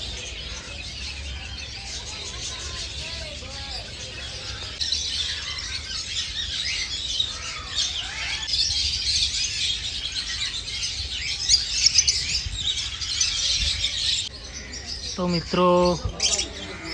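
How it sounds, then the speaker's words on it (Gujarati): Lovebirds in an aviary at Kankaria Zoo, Ahmedabad, chirp and twitter steadily in a busy, bright chorus, with a brief voice near the end and some louder close squeaks. "આ છે લવ બર્ડ્સ"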